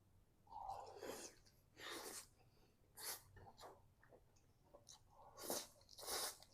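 Close-up wet chewing and crunching of spicy kimchi, including green onion kimchi, eaten with bossam, coming in rhythmic bursts of bites and mastication, quiet and intimate.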